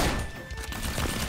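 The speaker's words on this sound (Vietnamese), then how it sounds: "Súng bắn liên thanh hay sao á?" Automatic gunfire from the PUBG video game, a dense, loud, continuous rattle of rapid shots that fills the whole moment without a break.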